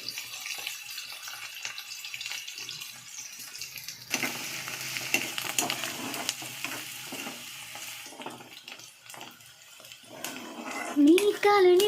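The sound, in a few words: onions and green chillies frying in oil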